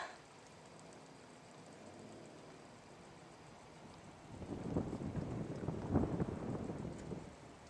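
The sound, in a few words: diesel engine exhaust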